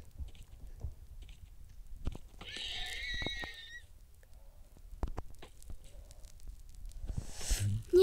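A horse whinnies in a video game, one clear high neigh amid quiet scattered thumps and faint background sounds.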